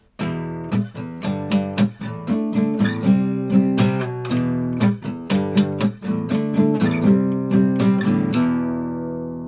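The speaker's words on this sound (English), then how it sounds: "So here's what they both sound like together." Strummed guitar chords from a song, played as one part over another, ringing close and steady with a regular rhythmic strum and no talking.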